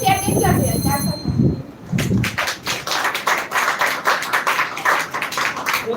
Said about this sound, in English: So the claps are telling that how well she has just spoken